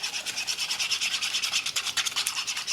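A small whisk beats batter in a bowl, a fast, steady scratchy rubbing rhythm heard close with no talk over it.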